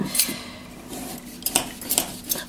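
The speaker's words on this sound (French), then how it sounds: "J'avais oublié à quel point c'était chiant de couper des carottes." A knife chops carrots into small cubes on a slippery kitchen surface, giving several sharp, close taps against the board that come in irregular bursts over steady low kitchen noise.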